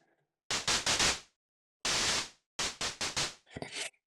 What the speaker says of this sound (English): However, we're going to change that to white noise